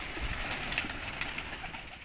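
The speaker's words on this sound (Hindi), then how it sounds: "तो ये 45 से 40 कबूतर के आसपास आए हैं।" Malwai pigeons coo softly in a flock, low repeated throaty calls overlapping amid rustling, heard faint and fairly close with no talking.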